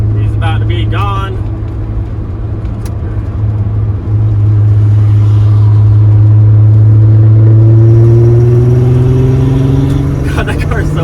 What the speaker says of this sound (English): I can hear his car in front of me and it sounds so good